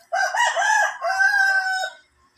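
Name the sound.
rooster crowing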